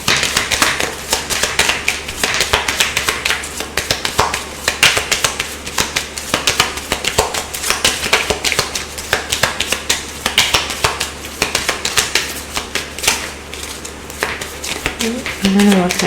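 Tarot cards being shuffled, producing rapid, close, crisp riffling and tapping bursts in a continuous run, while a person talks over them.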